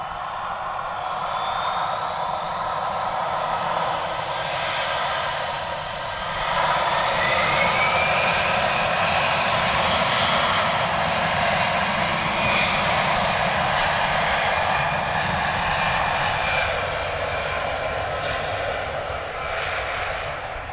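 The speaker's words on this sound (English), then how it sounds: "So we just heard 3 different types of engines just for the same aircraft type." Aircraft jet engines roar steadily at Lisbon Airport, a loud sustained rumble with rising whining tones as an airliner spools up nearby.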